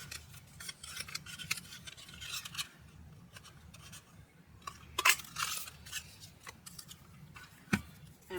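Scissors cutting a strip of green paper for a craft album, with a series of close, crisp snips and paper rustling between the cuts.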